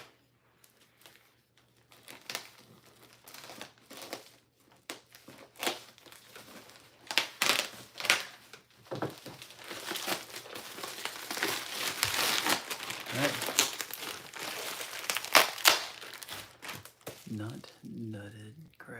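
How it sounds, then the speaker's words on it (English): Envelope and bubble wrap being handled, crinkling and crushing in bursts of close plastic and paper rustle, with brief pauses and speech in the background. "All right, so got a little bubble wrap."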